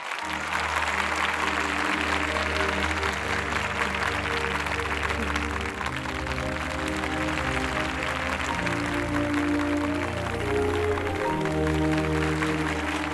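Students at a college applaud steadily and loudly throughout, a dense, continuous wash of clapping layered over music with sustained tones.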